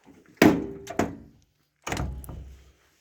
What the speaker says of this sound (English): Sorry about the door hinges, needs to load up.